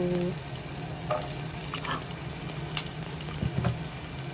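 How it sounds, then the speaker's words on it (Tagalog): Aromatics for string bean adobo sauté in a pan with a dense, even sizzle, joined by a few light utensil scrapes and taps near the end, with no voices. "Ayan, gigisa na tayo."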